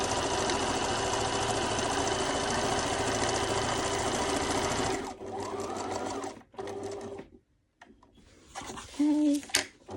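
A sewing machine stitches fabric for a small travel trinket tray, running in one long continuous whir, then stopping and restarting in short bursts with a quiet voice.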